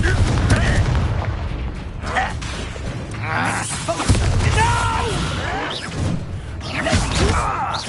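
A Confringo fire spell bursts in Hogwarts Legacy amid a goblin fight, with heavy booms, crashes and whooshing magic effects, while voices speak and cast spells over the din.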